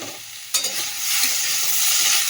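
A sudden burst of sizzling as food hits hot oil, followed by a steady, bright crackle of frying in a pan.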